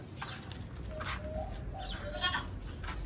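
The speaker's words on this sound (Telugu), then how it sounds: "గొర్రె పిల్లలు." Young Karumbi goats bleat a few times at close to moderate range: several short, wavering cries over a low, steady outdoor background.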